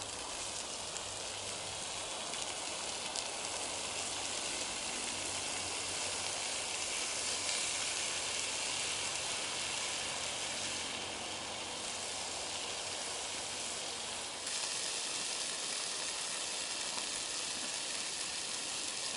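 Canadian bacon sizzles on a Blackstone flat-top griddle, giving a steady dense hiss that holds unbroken for the whole stretch at a moderate level, with no voices.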